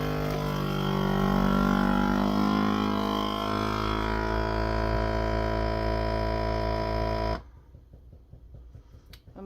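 A steady, loud motorized droning hum from a vacuum sealer pumping air out of a bag of ham holds for several seconds, then cuts off abruptly, leaving faint clicks and quiet.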